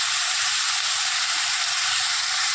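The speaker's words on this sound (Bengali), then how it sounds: "এবারে এখানে আমি আলু ভাজা চাপিয়েছি।" Potatoes frying in a pan give a steady, loud, close sizzle and hiss that continues without a break, with no voices.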